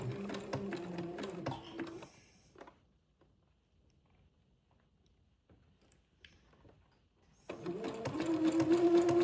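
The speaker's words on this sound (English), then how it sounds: "I'm going to begin to zigzag this Swiss insertion to the French insertion" A sewing machine zigzag-stitches Swiss insertion lace to French insertion lace for a French Acadian sundress, running steadily in two bursts separated by a quiet pause with a few faint clicks.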